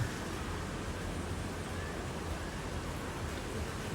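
Heavy rain pours steadily around a nipa hut in a flooded yard, a dense, constant hiss of falling water that stays even and loud throughout with no breaks.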